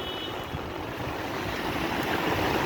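Swollen river water rushes and roars steadily during a typhoon in Hong Kong, a dense, continuous broadband wash with wind buffeting the microphone, no voices.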